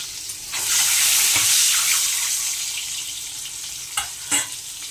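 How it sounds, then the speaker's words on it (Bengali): Four eggs dropped into hot oil in a home kitchen: a sudden loud sizzle that swells and holds steady, followed by a couple of quick utensil clicks near the end. "এবার দিয়ে দেবো ডিমগুলো ভেজে নেব।"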